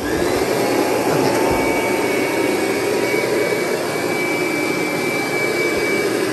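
A Kirby Diamond Edition vacuum, an early-generation model set up for carpet shampooing, runs at full power with a loud, steady, roaring motor whine that stays constant and close throughout, with no talking.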